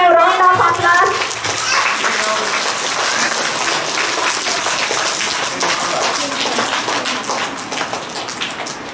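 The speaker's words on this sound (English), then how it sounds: "Give a round of applause." Audience applause at a school day celebration in India as a guest is called to the dais, a steady wash of clapping filling the room throughout, with children's voices mixed into the crowd.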